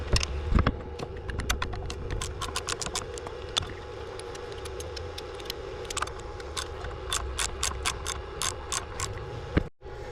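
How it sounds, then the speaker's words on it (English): A hand ratchet works the alternator bolts on a 1990 Ford F350 with the 7.3 IDI diesel, rapid clicking pawl bursts in uneven runs, close up, with a short metallic clunk near the end. "now that I got this lower bolt loosened and this one on the back, 16 and our 14"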